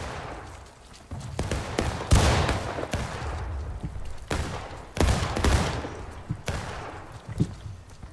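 Musket volleys crack out in War of Rights, a Civil War video game, with rapid overlapping shots, some near and sharp, others distant, forming a ragged continuous fusillade.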